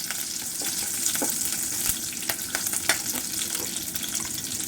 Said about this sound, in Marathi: कढीपत्ता घालू मिरच्या घालू थोडं भाजून घेऊ